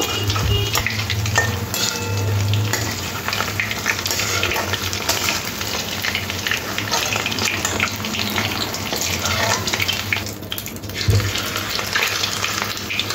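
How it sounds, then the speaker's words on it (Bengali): Prawns fry in oil until golden, a loud continuous sizzle and bubbling with scattered utensil clinks and scrapes throughout, no speech. "চিংড়ি মাছগুলো এরকম গোল্ডেন কালার করে ভেজে নিতে হবে"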